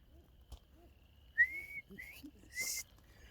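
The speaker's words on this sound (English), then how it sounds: "I can't whistle to save my life anymore." A person tries to whistle and gets a few thin, breathy, rising tones, brief and faltering, with airy hiss between them in a quiet room.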